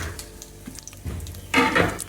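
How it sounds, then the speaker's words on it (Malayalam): Whole spices (bay leaf, two cardamom pods, two cinnamon sticks, two cloves and star anise) hit hot oil in a pan for chicken stew, a soft sizzle that swells into a louder, close frying hiss. "ഇനി അതിലേക്ക് നമുക്ക് ഹോൾ സ്പൈസസ് ആയ ബേ ലീവ്സ്, 2 ഏലക്ക, 2 കറുവാപ്പട്ട, പിന്നെ 2 ഗ്രാമ്പൂ, പിന്നെ ഈ സ്റ്റാർ"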